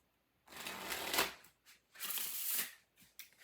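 Tarot deck with reversals being shuffled by hand, two bursts of crisp riffling card flutter about a second apart, close and clear, followed by a few soft taps of cards settling.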